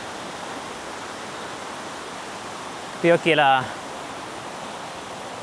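River flowing through a forest on a hike near a waterfall, a steady broadband rush of water throughout, with a brief burst of talk in the middle.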